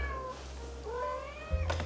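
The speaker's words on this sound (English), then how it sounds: "my cat is a little bit chatty today" A house cat meows in a drawn-out, chatty call with a rising and falling pitch, followed by a short second mew, close and clear over a low background hum.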